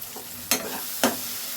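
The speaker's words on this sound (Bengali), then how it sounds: "এটাকে এটাকে জাস্ট একটু নেড়ে ছেড়ে একটু হতে দিলাম।" A spatula stirring cooking cabbage mash in a pan gives two quick scrapes over a faint, steady sizzle, close by and with no talking.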